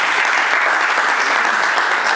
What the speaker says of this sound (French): Et merci encore d'applaudir Borel